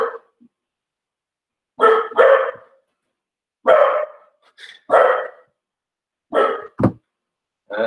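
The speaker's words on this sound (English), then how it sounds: "That is my dog trying to tell me the answer." A dog indoors barks in short bursts, about six to eight sharp barks arriving in pairs and singles with silent gaps between, loud and close with no talk over them.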